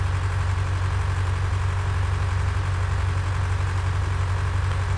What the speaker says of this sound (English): It's a pretty neat looking tractor.